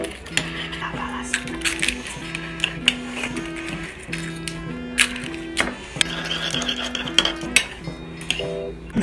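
Russian salad with eggs is stirred in a bowl, utensils clinking and scraping against the dish in irregular bursts over steady background music, with voices talking at times.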